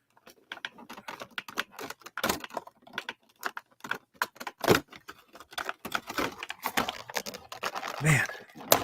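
Toy packaging being cut open: close, rapid plastic crackles, snips and tearing clicks in irregular bursts, with a person talking intermittently over the sharp packaging noise.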